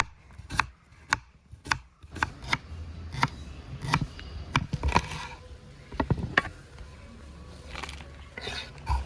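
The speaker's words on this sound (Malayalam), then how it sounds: "ഇവനെ നമുക്ക് പെട്ടെന്ന് അരിഞ്ഞെടുക്കാം" A knife chops potatoes, garlic, ginger, tomatoes and green chilies on a board for mutton kurma, a quick run of sharp, close, uneven strikes with brief pauses between bursts.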